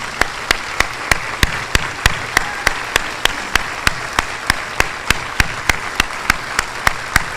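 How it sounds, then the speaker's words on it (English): Sharp, evenly spaced claps ring out close by in a steady, brisk rhythm over a quiet background. They come from an audience at a healthcare awards ceremony, standing to applaud the finalists. "so we can give you a round of applause"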